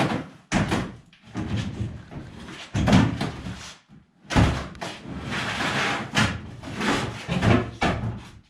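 A door is worked loose and pulled off an OBS Chevy pickup truck during an LS swap teardown, a run of close metallic thunks, scrapes and clanks in uneven bursts with brief pauses.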